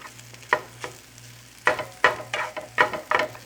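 Rice and bean sprouts stir-fried in a pan for Japanese-style fried rice, with bursts of scraping and sizzling as the food is tossed, over a steady low hum.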